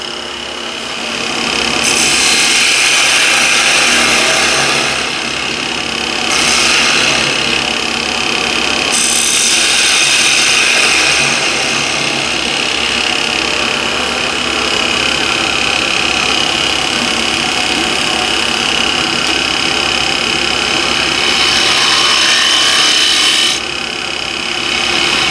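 Woodturning tool cutting a small chamfer on the bottom of a walnut spatula pot on a lathe, a continuous scraping hiss over the motor hum, rising and easing in several passes of a few seconds each.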